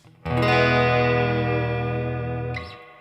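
A single electric guitar chord rings out with lush reverb, sustaining and wavering slightly before a brief tremolo-bar pitch wobble as it fades.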